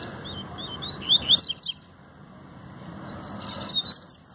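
Double-collared seedeater (coleiro) singing in short bursts of bright, high, rapid chirps and trills, fairly close, two phrases separated by a brief pause, over faint low background noise.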